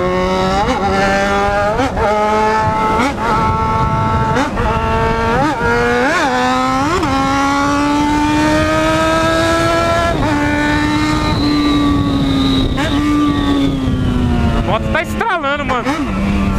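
A Yamaha XJ6 motorcycle accelerates hard toward 200 km/h, its loud engine note climbing steadily through several rising gear pulls with brief shift dips, while a rider talks and wind roars over it.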